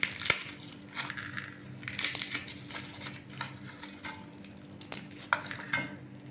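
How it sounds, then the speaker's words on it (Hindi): A whole head of garlic is broken apart by hand, giving a run of close, dry crackling snaps and papery crunches in irregular bursts, without talk. "साबुत लहसुन इसको तोड़ लेना है।"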